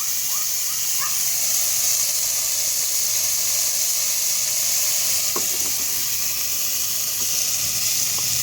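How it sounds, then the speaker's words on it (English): Food simmering in a pot over an open fire, a constant soft hiss of steam and gentle bubbling holding steady throughout, with a faint knock or two and no voices. "Let that simmer there for a while"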